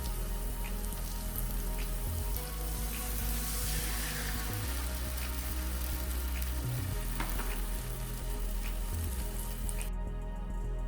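Egg stir-fried with masala noodles in a pan, a loud continuous sizzle with rain-like crackling and occasional stirring, close and steady over a low hum.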